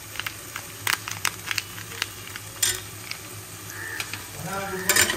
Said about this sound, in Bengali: মশলাটা একটু কষিয়ে নিই, তারপর চিকেনটা দিয়ে কষাবো